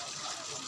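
Unmetered running water pours in a steady, close stream, a brief bright splashing gush on a farm property with no one speaking.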